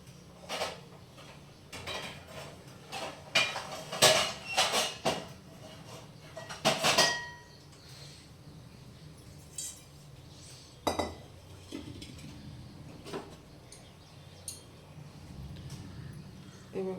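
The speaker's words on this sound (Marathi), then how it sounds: "आता गरम पाणी होते तोपर्यंत आपण कढई घेऊया" A kadhai and other metal utensils are picked up and set down in a home kitchen, producing a run of close clanks, clinks and scrapes that crowd together early, then thin to sparse knocks over quiet.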